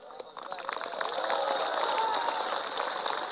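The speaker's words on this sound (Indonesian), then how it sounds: "Tengok orang ini ragu-ragu tepuk tangan." Scattered, hesitant clapping from a crowd at a sermon builds into steadier applause, moderately distant, with a voice and crowd murmur running beneath it.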